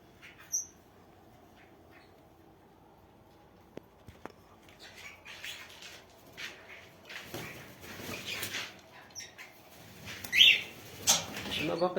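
Birds in a breeder's aviary give faint squawks and calls with soft wing flapping and pattering, sparse at first and busier toward the end, with a sharp squawk near the close.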